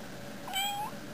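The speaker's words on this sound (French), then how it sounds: "Princesse, elle entend miauler ses petits minous" Kitten gives a single rising meow, close and clear over quiet room background.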